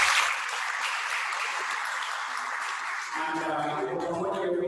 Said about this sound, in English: Students are going to clap hands as a sign of appreciating you.